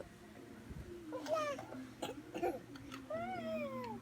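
A small child gives a few short, deliberate coughs on request, mixed with whiny, babbling vocal sounds, faint and close, with an adult voice nearby.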